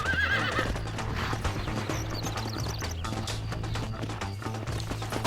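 Horse in Red Dead Redemption whinnying at the start, then steady clip-clop of hooves trotting along with background game music.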